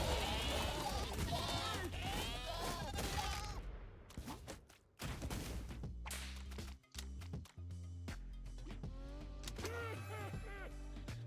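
Repeated bleating goat cries mixed with sharp game sound effects and impacts, fairly busy and layered, with brief drops in between.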